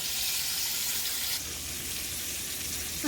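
Pot roast meat browning in a hot pot for Granny's pot roast, giving a steady close sizzle and frying hiss that runs on its own without talk and eases slightly partway through.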